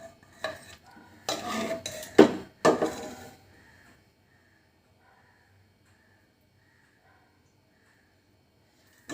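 A metal pot lid clanks open on mutton keema ghugni, a Kolkata street-style dish of minced goat meat with peas, followed by a few scraping, clattering stirs of a spoon against the pot. Then everything falls quiet for the last several seconds.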